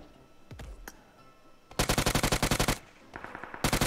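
Gunfire in PUBG Mobile: a single thud, then a fast, loud burst of automatic rifle fire, a pause with softer background noise, and another rapid burst at the end.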